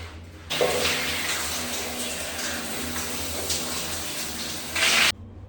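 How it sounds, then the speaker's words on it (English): A bathroom shower runs during a bath on a weekend getaway at Jim Corbett, making a steady close rush of water that starts abruptly, holds evenly with a brief louder surge near the end, then shuts off. "Done with my shower."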